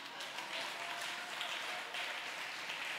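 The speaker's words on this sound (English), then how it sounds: "May I get a clap for him, please?" Children's church congregation clapping for a pastor: a steady, dense wash of many hands that holds at an even level for the full three seconds, with no pauses.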